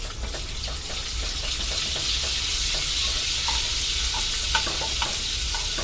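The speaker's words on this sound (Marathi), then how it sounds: "1 चम्मच तेलाची टाकलेले आहे मी आणि याच्यामध्ये आता हा मी बटर सोडत आहे।" Butter and oil sizzle steadily in a kadai, a continuous bright hiss with small crackles and occasional clinks of stirring, close and alone without any talk.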